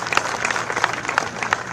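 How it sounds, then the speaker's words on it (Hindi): A crowd claps at an outdoor Lok Sabha election rally in Pilibhit, Uttarakhand, a steady wash of applause with sharper individual claps standing out near the front. "इस पर ताली बजाइए।"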